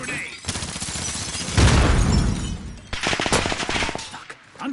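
Machine-gun fire in the Warzone game, repeated rapid bursts with a heavier blast near the middle, loud and close, with voices heard at moments.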